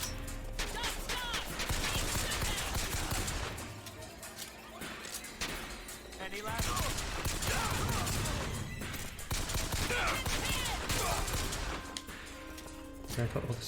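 Pistol shots in Bioshock Infinite combat, repeated sharp cracks amid a dense, loud game soundscape with clattering impacts, while a player talks over the action.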